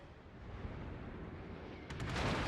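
Battleship secondary guns fire in World of Warships: a sustained low rumble of distant, continuous gunfire and booms that swells louder near the end, with a few sharp bright cracks, heard alone without talk.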